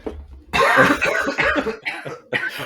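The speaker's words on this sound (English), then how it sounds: "cough warning" A person gives a short burst of loud, harsh coughs in close succession, with a brief pause before a final cough.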